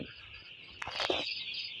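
Six-day-old broiler chicks in a home flock of about two thousand peep in a steady, high-pitched chorus, faint and continuous, with a slightly louder burst midway and no talking.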